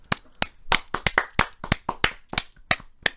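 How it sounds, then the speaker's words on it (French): A few people clapping together in a room, about a dozen sharp, distinct claps at an uneven pace, close and clear with no talk over them. "du coup on t'applaudit"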